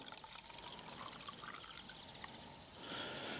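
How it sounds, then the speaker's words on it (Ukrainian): Water pours into a jar of liquid concentrate, a quiet steady trickling stream close by that swells into a fuller gush near the end; no speech. "беремо наш ліквід, заливаємо його водичкою, заливаємо якраз повну банку"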